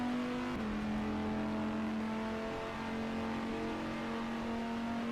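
Sustained race car engine from the rFactor 2 sim racing game, a steady high drone that drops slightly in pitch near the start and then holds, loud and continuous with no voices.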